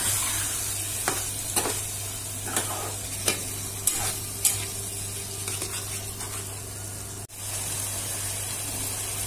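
A thick poppy seed paste sizzles and fries in a pan for Bengali tangra fish curry while a spoon stirs and scrapes it in repeated strokes, close and continuous.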